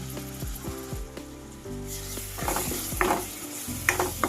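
Two tablespoons of yogurt hit fried spices in a pan for potato masala curry, giving a sizzle with a series of spoon scrapes and clinks against the pan as the mixture is stirred.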